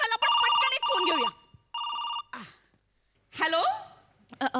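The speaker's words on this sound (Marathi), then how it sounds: "लगेचच प्रेक्षकांचा फोन आला. पण पटकन एक फोन घेऊया." A telephone bell rings in loud bursts, two long trills and a shorter one, on a comedy show stage, with breathy gasps and voices in between.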